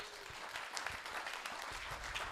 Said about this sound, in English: The nice round of applause. Let's give him another one.